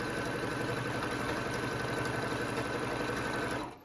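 Sewing machine stitching quilt binding toward a corner, a close, loud, rapid rhythmic whir held steadily for nearly four seconds before stopping.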